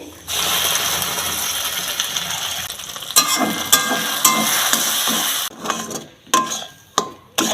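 Mashed green pea paste hits hot oil with cumin seeds and fries loudly, a steady crackling hiss that breaks into scraping stirring bursts and sputters near the end.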